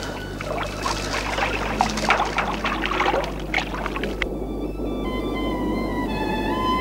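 Sea water sloshes and splashes against a moving boat in a steady wash, with choppier bursts early on, then settling into a calmer flow under a faint musical tone.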